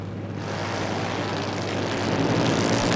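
Half-scale drag racing cars at the ANRA 2012 season finals eliminations roar down the lanes: a loud, dense engine drone that holds steady and swells slightly toward the end, heard from a distance.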